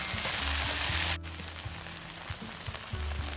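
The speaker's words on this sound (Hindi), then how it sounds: "भिंडी को हम फ्राई करेंगे।" Okra frying in a hot pan, a dense hiss of sizzling oil that cuts sharply quieter about a third of the way in, then carries on as a softer crackle with low background hum.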